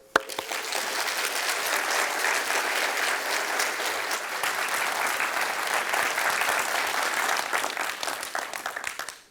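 Audience applause at a town hall welcoming Senator Ted Cruz, steady and full clapping from a crowd that holds for several seconds before tapering off at the end.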